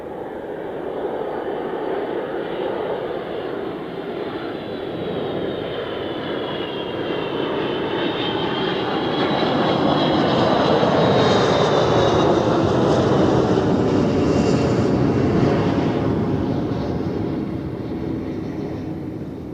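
A heavy Delta Airlines airliner from New York on approach to land at Zurich Airport, a steady broad engine roar that swells louder mid-pass with a faint whine on top, then eases slightly, heard from nearby without talk.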